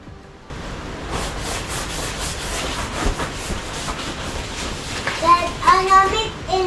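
A child scrubs something by hand with a rapid, raspy back-and-forth rubbing that carries on steadily up close, and a few brief squeaky sounds come near the end.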